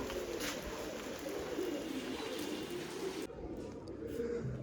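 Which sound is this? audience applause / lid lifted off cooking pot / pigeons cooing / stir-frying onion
pigeons cooing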